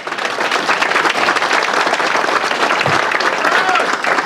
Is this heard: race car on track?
no